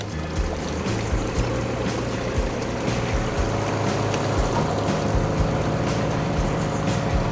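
A canal boat's engine chugs steadily as it motors out of a lock, a low rhythmic throb with faint water trickling and occasional knocks, moderately close and without talk.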